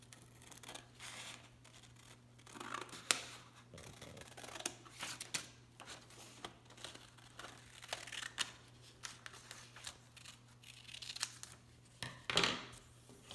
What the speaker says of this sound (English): then you get some scissors and cut off the big rectangle